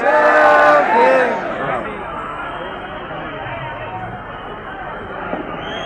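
Large crowd gathered at the Vijay Stambh victory pillar, a dense steady murmur of many voices close around, louder for the first second or so and then holding at an even level, with a voice rising above it near the start.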